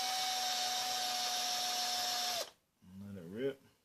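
A cordless drill spins a brake line chamfer tool in a steady, loud, close whine for about two and a half seconds, then stops abruptly; a voice speaks briefly afterward.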